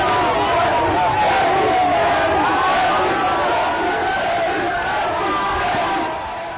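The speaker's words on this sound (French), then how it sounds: "La population le comprend en l'acclamant spontanément" A large crowd cheering and acclaiming the president in Guinea, a dense sustained roar of many voices with shouts rising above, fading slightly toward the end.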